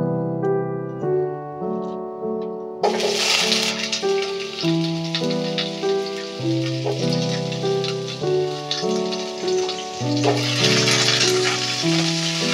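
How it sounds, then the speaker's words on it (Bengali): Bitter gourd pieces fry in hot oil in a wok, a broad crackling sizzle that begins a few seconds in and runs under steady background music. "প্রথমে কড়াইতে তেল দিয়ে দিয়েছি, তেলটা একটু গরম হলে তারপর আমি করলাগুলো আগে ভেজে নেব।"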